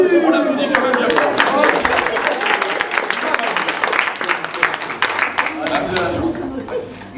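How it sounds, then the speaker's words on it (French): Studio audience applause on a French TV quiz show, a dense, sustained burst of clapping filling the whole stretch, with voices and chatter mixed in. "On l'applaudit quand même bien fort"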